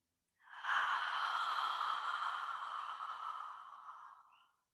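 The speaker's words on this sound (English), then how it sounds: "the natural tendency is to take a super deep, relaxed inhalation" A single deep, slow, relaxed breath taken before going underwater during a yoga practice, close and soft, drawn out over about four seconds and fading at the end, with no talking.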